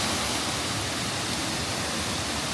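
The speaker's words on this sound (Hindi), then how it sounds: "दोस्तों बहुत ही ज़्यादा खूबसूरत झरना है, ऊपर से जहाँ से पानी आ रहा है" Steady broadband rush of a beautiful waterfall at Neer Garh on a trek, water pouring down from above; dense, continuous roar with no pauses, fairly close and loud, no talking.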